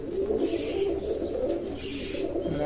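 Jacobin fancy pigeons, a young Norwegian breeding pair, cooing in low rolling murmurs that repeat steadily through the clip at close range, with no talk over them.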